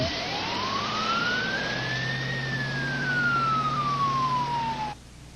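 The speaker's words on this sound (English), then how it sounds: "A mobile medic ambulance was immediately dispatched to the scene." A single long ambulance siren wail rises and then slowly falls, loud and steady over a low engine rumble, cutting off abruptly at the end.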